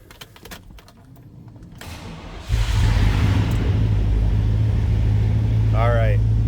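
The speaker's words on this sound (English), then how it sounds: "Let's go ahead and fire it up." A 1998 GMC Sierra 1500 pickup cranks and catches, then settles into a steady, loud idle heard from inside the cab, with a brief electronic chime near the end.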